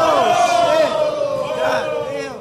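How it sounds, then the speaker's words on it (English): A gym crowd watching a sparring knockdown roars and yells together, a loud sustained swell of shouting voices that dips and rises again before fading. "listen to the crowd"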